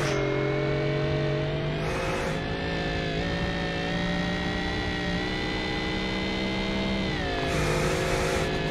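A car engine in the BeamNG.drive driving game revs hard and continuously, its pitch holding high then dipping and rising again, loud and unbroken with no voices over it.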